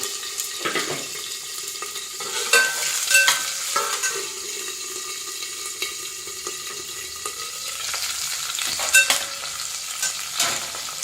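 Cauliflower florets and half a carrot sauté in a pan for spiced vegetable rice, a steady sizzle broken by repeated scraping stirs and clinks of the spoon against the pan.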